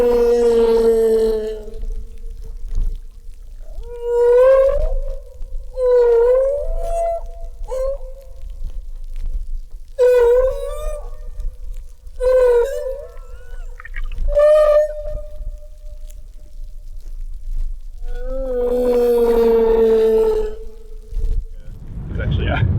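Humpback-like male whales sing on a mating ground, long moaning and whooping calls that rise and fall in separate phrases with gaps between them, heard clearly through an underwater hydrophone hiss.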